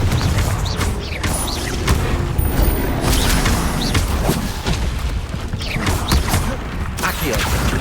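Spells in a Hogwarts Legacy combat scene, including a Confringo blast curse, set off dense crashing bursts and clattering mechanical impacts over a loud continuous rumble.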